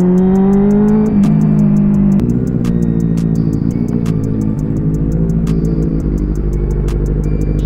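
A Kawasaki Z900 inline-four superbike idles and revs loudly up close, the engine note rising and dropping through a few blips with a steady throbbing tone and no talk.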